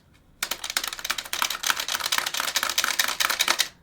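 Plastic frets on a Guitar Hero guitar controller click and clack in a rapid, uneven run of sharp taps, close and crisp, lasting a few seconds after a brief quiet start.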